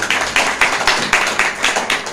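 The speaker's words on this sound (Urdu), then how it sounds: "زوردار تالی لگائیں اس بات کے لیے" A church congregation at a Sunday service claps loudly together in a steady, rhythmic beat of about four claps per second. The sound is close and full, and no voice can be heard over it.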